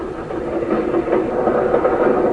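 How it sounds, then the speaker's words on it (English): A very old steam locomotive, capable of only 36 km/h, gives a low rumbling, churning engine drone that holds steady at moderate loudness with slight surges and no talk over it. "Take this locomotive, for instance. It's a very old steam engine"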